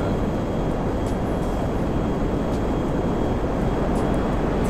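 Jet aircraft in GTA Online, a thermal jet, roaring as one dense, steady rumble of broadband engine noise that stays loud and constant with no breaks.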